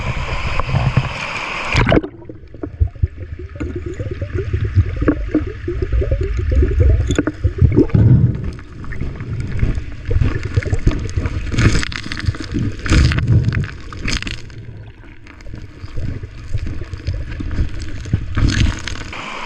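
A small waterfall spills into gold-bearing boil holes in a creek, giving a constant close rush and gurgle of water. Wind buffets the microphone and occasional splashes or handling knocks cut through.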